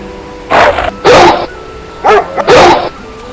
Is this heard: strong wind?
no